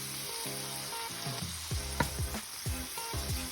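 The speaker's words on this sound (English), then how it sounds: "And I'm going to stir this." Garlic powder and crushed red pepper sizzle in a frying pan as they are stirred, steady close frying hiss with repeated scraping strokes of a spoon spatula against the pan and no talking.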